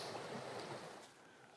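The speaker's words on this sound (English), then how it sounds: "you hear this water running probably 365" A stream runs through Maine woods, giving a steady, broad rushing wash of water, low in level and continuous, with no talking over it.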